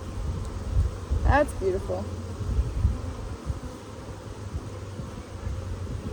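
Honey bees buzz steadily inside a hive full of young bees, a dense, close hum that holds throughout, with a brief voice speaking over it.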